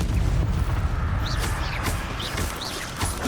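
Incendio fire spell cast in Hogwarts Legacy, loud whooshing bursts with crackling impacts over a dense rumbling combat background, several hits in quick succession.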